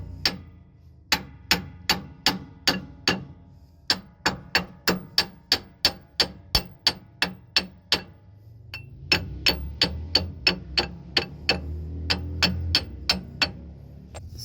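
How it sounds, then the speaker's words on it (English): A hammer striking a Freightliner Cascadia truck's pinion yoke to drive it off, sharp metallic blows in quick rhythmic bursts, about two dozen hits with brief pauses between groups, mechanical rumble beneath later strikes. "now we're gonna bring out the yoke using a hammer"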